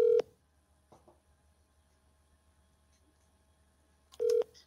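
A telephone call being dialed during real estate cold calling: two short, loud electronic phone tones, one at the start and one near the end, separated by a quiet stretch of faint line hiss and soft clicks, with no talking.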